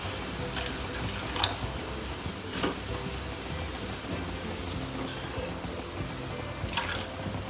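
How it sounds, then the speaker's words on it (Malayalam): More water is poured into a pan of onion masala curry for chapathi, a quiet trickle and splash with a few drips and a faint simmer underneath, heard close by. "കുറച്ചും കൂടെ വെള്ളം ഒഴിക്കാം"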